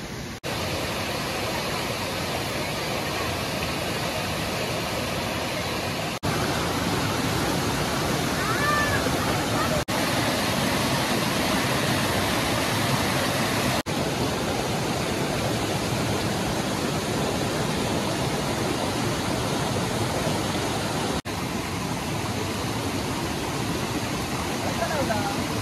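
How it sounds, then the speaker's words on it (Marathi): A waterfall near a village, roaring as a loud, steady broadband rush of falling water that fills the whole stretch without pause, heard from close by. "जिथून पाणी खालती येतो ना तिथे थांबलो इकडे"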